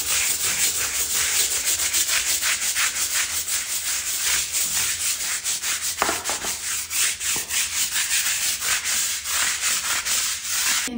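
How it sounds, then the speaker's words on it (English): Brush scrubbing a bathroom floor with baking soda and dish soap, rapid rhythmic back-and-forth rasping strokes, close and steady without talk. "I put a little bit of dish soap on it and I'm just gonna scrub it."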